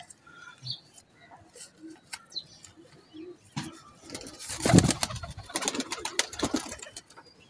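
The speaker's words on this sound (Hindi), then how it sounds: "ये जी फिरोजपुरी कबूतर है दोस्तों" Ferozpuri pigeon cooing close by in a loft, soft low coos scattered through the first half, then a louder stretch of rustling, flapping and repeated cooing with faint chirps from other birds.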